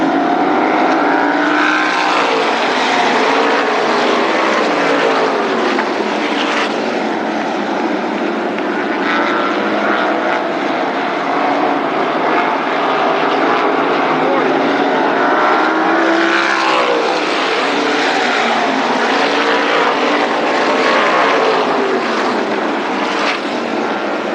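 Race cars at Berlin Raceway during a 1999 closing-night event with sprints, late models and super stocks, engines roaring continuously and loudly as they accelerate, a dense, sustained drone with rising and falling swells.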